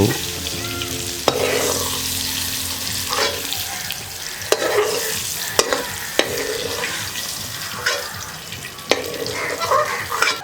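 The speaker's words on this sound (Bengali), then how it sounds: "এবারে ভালো মতো নাড়াচাড়া করে নিয়ে মাছগুলোকে ভাজতে থাকবো" Fish fries in hot oil in a pan while being stirred, a loud close sizzle broken by sharp clinks and scrapes of the utensil at irregular intervals.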